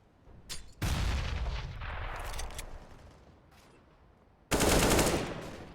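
Bursts of automatic rifle fire from Counter-Strike on de_dust 2 during a competitive esports match, loud sustained volleys separated by a quieter stretch, then another sharp burst near the end.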